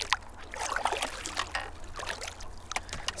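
A canoe is paddled across a quiet reservoir lake in Scandinavia, with soft, repeated splashes and trickles of water from the paddle strokes, close and fairly gentle with no talk.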